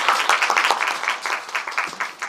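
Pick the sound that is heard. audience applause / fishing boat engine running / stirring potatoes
audience applause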